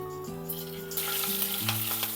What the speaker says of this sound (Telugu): ఇవన్నిటిని ఒకసారి ఇలా ఫ్రై చేస్తాం. ఈ ఫ్రై అవుతున్నాయండి.